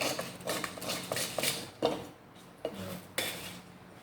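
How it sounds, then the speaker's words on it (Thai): A cutter knife scrapes hardened glue residue off a surface in short repeated strokes, each a crisp metallic scratch with brief pauses between, close and fairly loud, with no voices. "จะใช้คัตเตอร์ เก็บ ก็คือขูดขูดคาบกาวออก"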